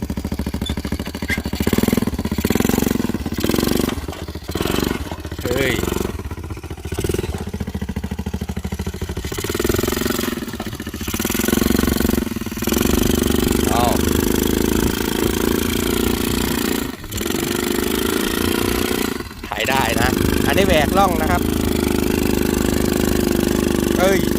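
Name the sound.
engine of homemade tractor built from motorcycle engine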